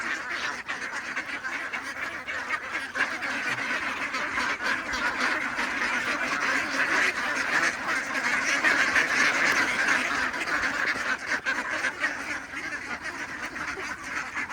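A flock of domestic ducks quacks continuously in a dense, overlapping chorus at moderate distance, steady and fairly loud throughout.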